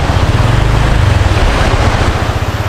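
Powerful rushing water roars continuously up close, a heavy low churning with buffeting wind noise on the microphone.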